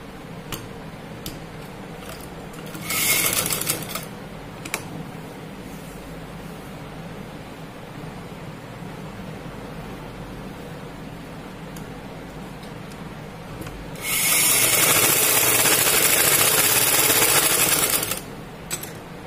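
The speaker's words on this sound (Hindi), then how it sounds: "अब हम इसके ऊपर से स्टिचिंग करेंगे।" A sewing machine runs in two short bursts while topstitching a side pocket onto palazzo pants, its fast mechanical whir rising over a quiet room with scattered light ticks in between.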